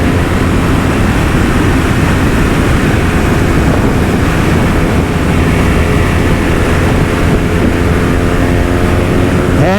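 A BMW R nineT Racer motorcycle accelerates in top gear, its engine a loud continuous roar buried under heavy wind rush, steady throughout, with no talk.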